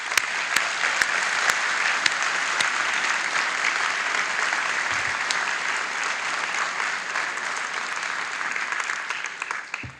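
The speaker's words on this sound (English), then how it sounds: "let's give you all a round of applause." Sustained applause from a graduation audience at a Wharton EMBA ceremony in Philadelphia, a dense, even roar of many hands for ten seconds with occasional sharper claps, fading slightly at the end.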